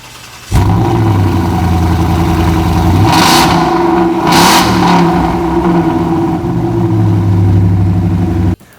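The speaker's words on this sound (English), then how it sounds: "we've got an authentic catback exhaust system here from Shelby American, and I'm pretty sure that you guys are curious what this baby sounds like" A Ford Mustang V8 fitted with a Shelby American catback exhaust, a Stallion Edition Shelby GT-style car, idles loud and close, then revs hard twice in quick succession before settling back to a steady rumble, with no talking.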